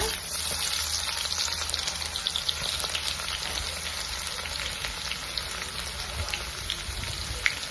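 Crushed garlic frying in hot oil with mustard seeds, a steady, close, crackling sizzle with scattered small pops, running evenly with no talk.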